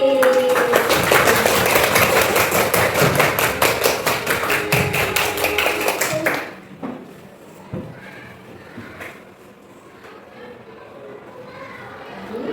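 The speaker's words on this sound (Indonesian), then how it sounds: "Tepuk tangan supaya kalian lebih bersemangat lagi." A group of children in a religious-studies class claps together in a fast, rhythmic pattern, loud and close for about six seconds. The clapping then stops, leaving quieter scattered taps and children's voices.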